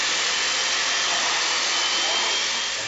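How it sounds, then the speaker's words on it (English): An electric chain mortiser, like a souped-up electric chainsaw, cutting a mortise right through a wooden beam, giving a steady, loud, close high-pitched whine and buzz with no pauses. "Basically, it's a souped-up chainsaw, electric chainsaw, that cuts the width of our mortise in 2 strokes."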